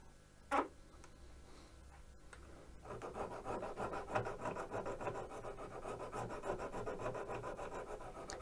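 A metal locomotive kit laminate held in a vise is filed gently to clean off excess solder, giving steady close rasping strokes after a brief sharp scrape near the start.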